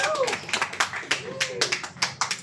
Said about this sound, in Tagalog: Yun, palakpak ha.